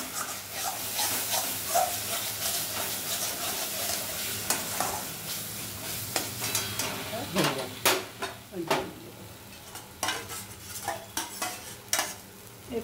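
Stuffed pointed gourd masala with cashew paste sizzles in oil in a pan, giving a steady close frying hiss broken by scraping stirs and spoon clinks against the pan.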